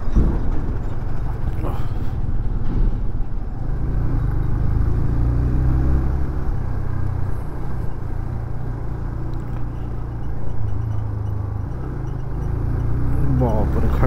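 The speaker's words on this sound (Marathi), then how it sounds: "काय ट्रॅफिक आहे बघा पुढे" Road traffic on the Mumbai-Goa highway NH66, heard as a steady, loud low rumble of engines and tyres that runs through the whole stretch, with talking over it.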